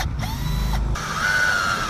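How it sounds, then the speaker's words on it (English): A power drill whirs steadily nearby, its motor whine climbing and holding a higher pitch as it bites into PVC pipe, with a few brief pauses. "Time for the drilling."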